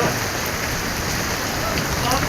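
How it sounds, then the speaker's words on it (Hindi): Heavy rain pours down in Lahore, a dense, unbroken roar of downpour hitting surfaces close by, loud and steady throughout. "बहुत तेज़ बारिश।"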